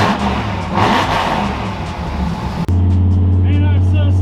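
A Ford F100 fitted with a lightweight McLeod aluminum flywheel, its engine revving loud and close with a rough, rising and falling roar, then dropping abruptly to a steady low idle hum.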